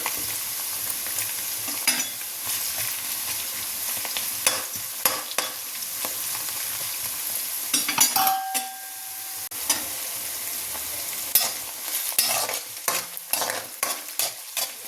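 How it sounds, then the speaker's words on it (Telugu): Bitter gourd and onion pieces fry in oil in a pan, giving a continuous close sizzle broken by repeated scraping stirs and clinks from a spatula. "ఉల్లిపాయ ముక్కలు కూడా వేస్తే ఇవి కూడా వీటితో పాటే వేగిపోతాయి"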